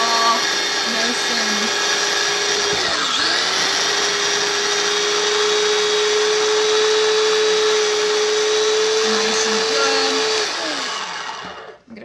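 An electric grinder chops onion and celery in a home kitchen, a loud continuous whirring motor that holds a steady pitch for about ten seconds, then winds down and stops.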